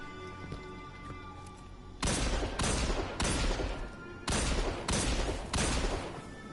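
Hand cannon gunfire in the Destiny 2 video game: six loud, sharp shots spaced roughly evenly about a second apart, each ringing briefly, after a quiet stretch of faint game ambience.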